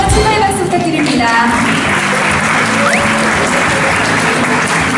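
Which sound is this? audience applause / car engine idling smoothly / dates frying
audience applause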